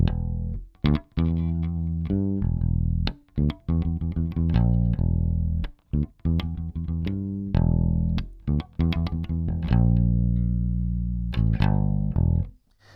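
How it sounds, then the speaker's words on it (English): Electric jazz bass plays a busy, punchy line in a clean tone, deep notes with bright plucked attacks, close and continuous with short gaps. "My clean tone sounds like this."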